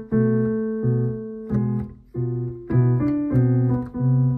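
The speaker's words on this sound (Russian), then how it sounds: "Я покажу тебе игру на фортепиано" A piano plays the melody of Albinoni's Adagio, slow sustained notes and chords struck one after another in a measured rhythm, close, clear and alone.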